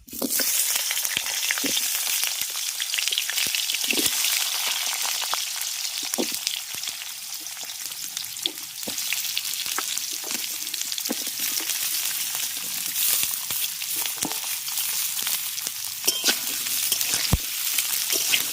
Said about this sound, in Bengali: এবার সবজিগুলোকে ভালো করে ভেজে নেব